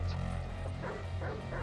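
A dog barks and yips in GTA V, short bursts repeating over a steady low game hum, fairly close and moderately loud.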